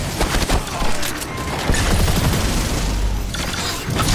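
Rapid enemy gunfire from a turret in Destiny 2 on Europa, a dense continuous fusillade of shots with heavy booms, loud and close throughout the whole stretch.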